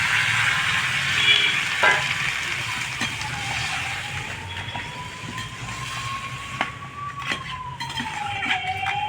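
Crab curry spice paste in a pan hisses and sizzles steadily after water is poured in, a continuous bright frying noise close by with a faint high tone drifting across it.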